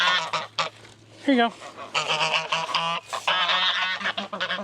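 Geese honk repeatedly and loudly nearby, overlapping calls in bursts, with a brief spoken phrase mixed in.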